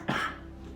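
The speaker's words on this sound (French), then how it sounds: "Je vais tousser" A single short, hoarse cough close by, followed by a faint breathy tail.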